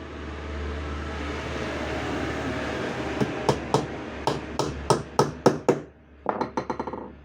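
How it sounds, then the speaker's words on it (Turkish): Hammer driving nails into wooden radiator slats, a brisk run of sharp strikes followed by a second quicker burst, close and loud over a low background hum. "İkişer çivi buradan atıyorum çivi de buradan atıyorum."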